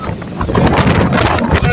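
Strong wind buffets the microphone on a boat trip from Cagayan de Oro to Davao, a loud, continuous rushing roar with gusty swells throughout.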